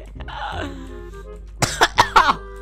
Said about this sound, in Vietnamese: mới bước ra đường mà ho quá trời vậy hả?